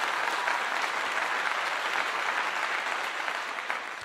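Steady applause from a small crowd, many hands clapping continuously at an even level for the whole stretch and easing slightly near the end, with no speech over it.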